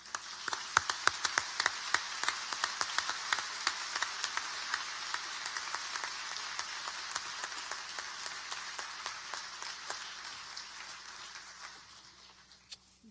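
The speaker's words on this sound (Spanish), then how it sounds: "Recibamos con un fuerte aplauso," An audience at an anniversary gathering for Empresas Polar applauds warmly, a dense wash of clapping with a few sharper individual claps, sustained for several seconds before tapering off.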